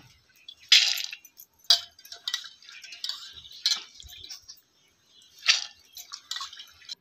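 Soaked whole masoor lentils are tipped into a cooking pot on a wood-fired stove, producing scattered faint ticking and pattering clicks in short irregular bursts, quiet and alone.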